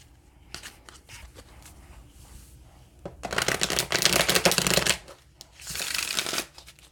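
Tarot cards shuffled by hand in a quiet room, a few soft riffles early on, then two loud, dense bursts of fluttering card shuffling close to the microphone.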